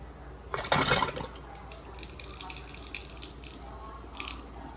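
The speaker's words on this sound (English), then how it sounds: "So we're going to turn our faucet on and let it run for about 10 minutes to flush any loose carbon from the system." A kitchen faucet runs steadily to flush the Nu Aqua Platinum Series drinking water filter system, starting with a louder gush before settling into a soft, continuous stream.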